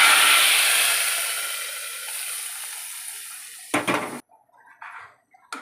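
A loud burst of sizzling as spices are tempered in hot oil for a vegetable chicken curry, easing off over a few seconds, then a couple of sharp clanks of a pan or utensil.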